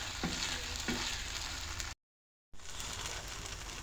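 Dudhal pitha, a coconut-milk rice cake, fries in a pan, giving a continuous close crackling sizzle with a couple of soft stirring taps and a short gap of silence partway through.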